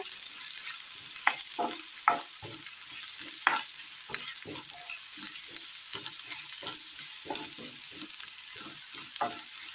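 Onions fry in a pan for a traditional Kerala-style curry, a soft continuous sizzle broken by scraping stirs, heard close and quiet with no talk.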